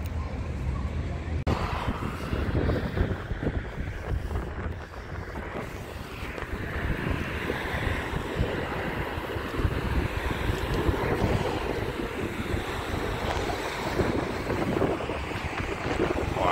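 Outdoor riverside on the Rhine, with steady wind buffeting the microphone and a constant wash of moving water and passing activity, broad and fairly close, with no talk.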